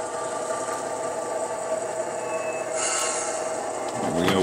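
A small model train hums and whirs steadily along the track, with a continuous mechanical drone and faint rattling, no voices present.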